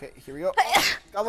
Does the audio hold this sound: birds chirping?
no